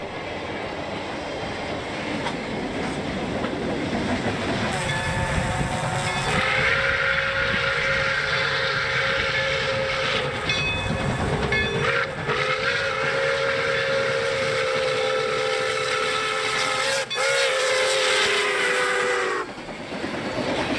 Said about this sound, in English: I love steam engines, and I'm glad that he included the sound in this too.